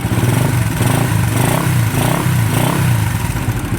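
A motor engine runs steadily nearby, a loud rough drone with a rapid rattling pulse and slight rises in revs.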